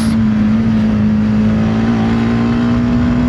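A TVS Apache RTX 300 motorcycle pulls hard on the road, its engine note steady and loud with a strong hum and rising harmonics as it accelerates, close to the rider with no voices.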